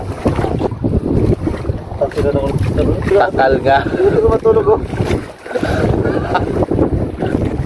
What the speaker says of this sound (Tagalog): Sobrang lakas ng hangin ha.